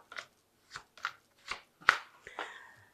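Oracle deck cards are shuffled for a tarot reading, giving a series of crisp riffling bursts, about six close, distinct flutters spaced irregularly, the last one longer and trailing.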